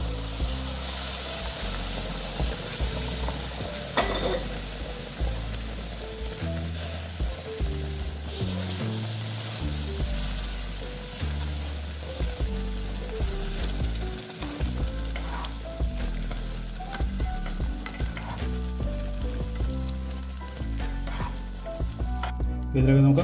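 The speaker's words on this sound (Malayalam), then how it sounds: "ഇതിലേക്ക് നമുക്ക് ആ തിളച്ച വെള്ളം ഒഴിച്ചു കൊടുക്കാം" Boiling water hits roasted semolina for rava kesari and gives a loud, continuous sizzle and bubbling hiss with intermittent stirring scrapes throughout.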